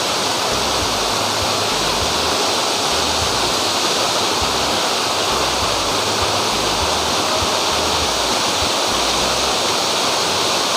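Continuous roaring rush of a waterfall at Murga Mahadev temple, Odisha, a dense and even wash of falling water that stays loud and unbroken throughout.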